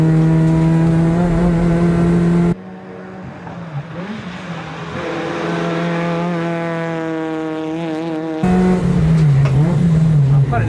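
A Honda Fit race car accelerates at full throttle out of a corner, its engine note climbing steadily and loud and near, with gear changes breaking the rising whine.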